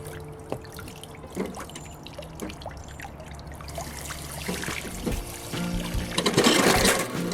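Water trickles and pours steadily while the legs of a highbanker are rinsed off at a gold mining site, a continuous dribbling flow that grows a little louder and splashier toward the end.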